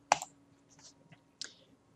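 A pair of sharp computer mouse clicks while finishing a software installer, one at the start and another about a second later, close and crisp against near silence.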